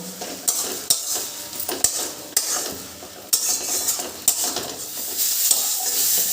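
Green banana peel mixture with garlic and a pinch of sugar stirred in a hot pan, a steady close sizzle broken by repeated scraping strokes of the spoon against the metal.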